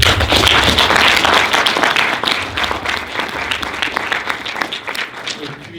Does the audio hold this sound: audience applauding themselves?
yes